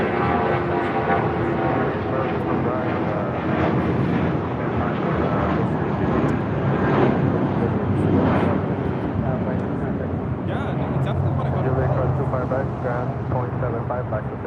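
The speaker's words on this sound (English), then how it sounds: "Also just had a United Dreamliner touching down here on the south side." A United Boeing 787-10 Dreamliner touching down at LAX from Newark gives a steady, heavy jet roar and rumble throughout, loud and sustained, with people talking over it.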